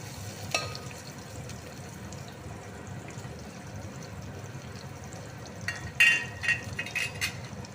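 Chopped onions frying in hot oil for a prawn and colocasia curry, a steady broadband sizzle throughout with a few sharper clatters of a spoon or pan near the end; no talking.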